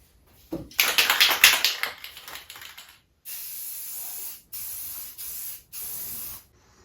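Spray gun laying primer coat onto a vintage Smith Built truck canopy shell: an uneven spattering burst first, then four steady hissing passes with short gaps, close and fairly loud.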